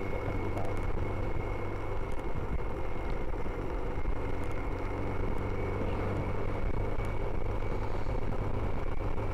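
A car accelerating hard along a rural road during an impromptu race, a steady loud engine and road roar from inside the vehicle, droning continuously with no pauses.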